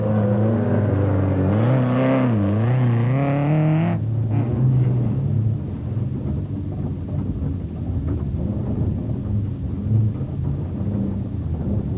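On board a Castrol Toyota Hilux Class E race truck at the 2004 Sun City 400 off-road race, the engine revs up and down through its gears for several seconds, then gives way to a loud, steady rumble and rattle while driving.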